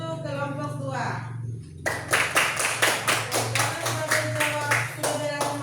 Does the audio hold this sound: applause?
yes